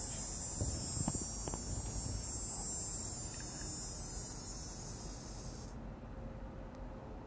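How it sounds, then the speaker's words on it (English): A cicada buzzing in a tree gives a loud, continuous high-pitched drone that holds steady for several seconds and then cuts off abruptly, leaving quiet outdoor ambience and no talk. "And the cicada in my tree."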